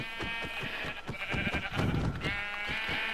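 A sheep in the Minecraft video game bleats repeatedly, wavering cries following one another closely at steady loudness with no voices over them.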